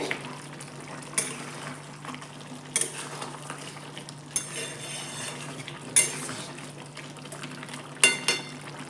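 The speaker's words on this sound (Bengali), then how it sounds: "গরম মশলার গুঁড়ো আর দিয়ে দেব ঘি একসঙ্গে একটু মিশিয়ে দিয়ে" Jackfruit and prawn curry being stirred with garam masala powder and ghee, a spoon scraping and clinking against the pot in sparse strokes about every second and a half over a low steady hum, no talking.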